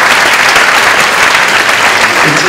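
A large audience applauds warmly for Catherine, an internationally renowned mountaineer, with dense, steady clapping that stays loud and close throughout and no voices over it.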